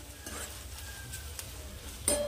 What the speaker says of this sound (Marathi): कांद्याला परतून घ्यायचं आहे